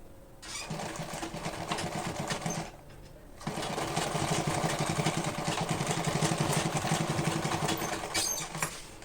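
Electric sewing machine stitching fabric for a foldable lunch box, a steady motor whir running nearly the whole time with one short pause near the start, close and alone with no voices.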